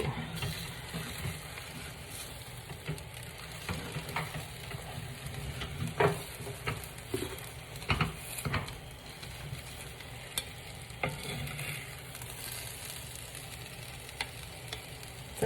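An omelet sizzles steadily in a hot pan while it is pushed around, with a constant frying hiss broken by scattered utensil scrapes and taps, fairly quiet and close.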